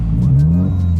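Subaru Impreza WRX STI engine giving a deep, loud revving rumble up close, pitch swelling briefly and then settling back, heard alone.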